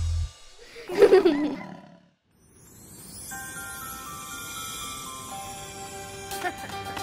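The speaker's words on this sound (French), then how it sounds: "Rugis, rugis, rugis, rugis. Bouge fort comme un dinosaure." A loud, growling roar of a cartoon dinosaur in a children's dance song swells for about a second, then fades into bright musical backing.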